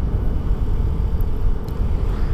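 A 2021 Vespa GTS Super 150 scooter engine drones steadily while riding, a loud continuous low rumble mixed with road and wind noise, no talk over it.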